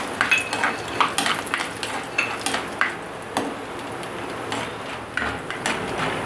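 Dried sundakkai berries frying in hot oil in a pan, a low sizzle broken by sharp scraping and clinking stirring strokes of a spatula against metal, close and without talk.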